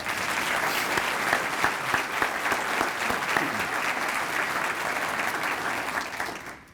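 An audience at a State of the City address in Columbus, Georgia claps loudly and steadily for several seconds, the applause fading out at the end.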